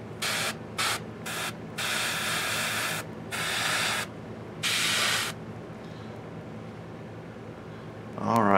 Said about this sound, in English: Show off some airbrushing.